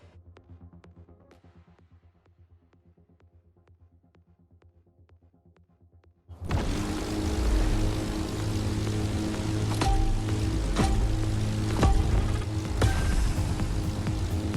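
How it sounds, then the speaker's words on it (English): A propeller plane, the Extra, flies in The Crew Motorfest during a Red Bull Speed Clash event, opening with quiet regular ticks before a sudden loud, steady engine and propeller roar that carries on unbroken and close. "once the plane is airborne, it's a different story"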